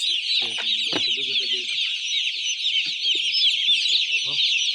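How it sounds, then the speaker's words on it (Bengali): A dense, constant chorus of high-pitched chick peeping fills a poultry farm as newly arrived chicks are counted, with a few brief low knocks and thuds underneath. "চিক্স চলে এলো ফার্মে কাউন্টিং হচ্ছে চিক্স"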